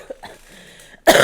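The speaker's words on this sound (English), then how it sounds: "My cough's coming back" A single sharp, loud cough bursts out at the end after a moment of faint breathing and quiet throat sounds, close to the listener.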